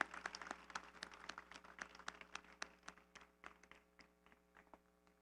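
Sparse, fairly faint clapping at an awards ceremony, with distinct separate claps from a small number of hands rather than a dense roar, over a steady low hum.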